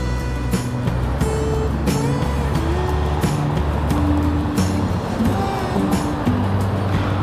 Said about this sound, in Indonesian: banyak sekali mobil-mobil